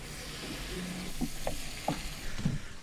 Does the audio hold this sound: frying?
yes